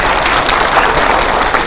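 Steady, dense applause from a television studio audience during a Hindi talk show, a continuous loud wash of clapping filling the short moment with no talk over it.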